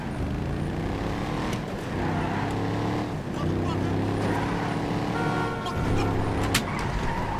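A Slamvan car engine in GTA 5 Online revving and accelerating, harmonic engine tones climbing in waves over a constant loud drone, with faint background noise.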